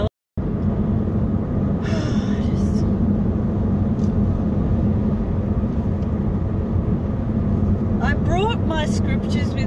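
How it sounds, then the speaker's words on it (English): Car cruising on the way to the beach, a steady low road and engine rumble that runs throughout, with a person speaking over it. "at the moment I'm driving to the beach"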